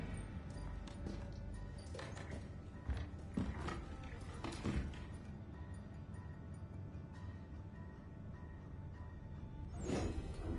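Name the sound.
lock being picked, from the video game Assassin's Creed 3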